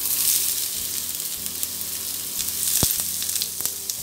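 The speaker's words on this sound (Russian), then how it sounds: "обжариваю лук" Steady, close sizzling of onions frying in vegetable oil, with a few soft clicks and scrapes from stirring in the pan.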